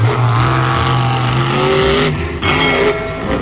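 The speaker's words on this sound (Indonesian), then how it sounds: "ada mobil monster" A monster truck engine roars loudly and continuously up close, revving with rising and falling pitch, and a brief tire squeal comes through as it moves.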